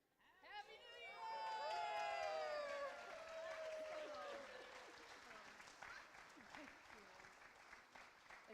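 An audience at a retirement open house bursts into loud applause and cheering that swells quickly, holds for several seconds, then tapers into scattered clapping and murmur, with a voice calling out over it at the start.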